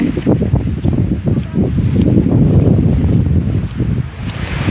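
Strong wind blows outdoors at Prachuap Khiri Khan, roaring loudly and steadily against the microphone with gusty buffeting throughout and no voices.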